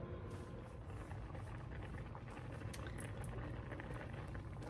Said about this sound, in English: we have our gentle boil going, and that's looking pretty good